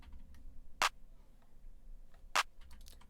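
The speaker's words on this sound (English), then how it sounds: "Simple half bar clap" Two crisp claps spaced about a second and a half apart over faint background noise, sparse and fairly quiet.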